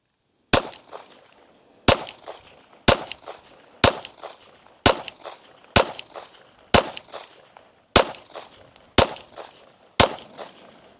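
Ten sharp, loud rifle shots from a Bear Creek Grizzly BC-101 at a range, evenly spaced about one second apart, each with a short ringing echo and quiet gaps between.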